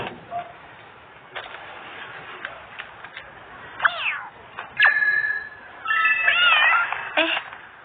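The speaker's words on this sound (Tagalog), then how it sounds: "Ang cute ng pusa." A cat meows several times nearby, the calls growing louder and longer toward the end, with faint rustling between them.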